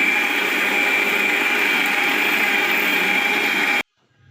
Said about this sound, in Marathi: मसाला पण आपण मिक्सरमध्ये बारीक करून घेत आहे